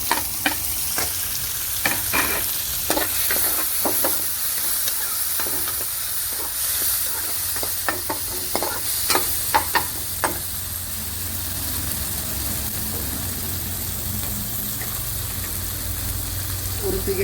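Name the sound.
tomatoes and green chilies added to frying onions, stirring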